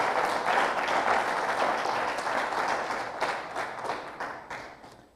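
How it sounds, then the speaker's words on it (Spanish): Congregation applauding in church after a sermon passage, a full roomy crowd of hands clapping that holds steady, then breaks into sparser individual claps as it tapers away. "Démosle un aplauso al Señor porque Él es bueno."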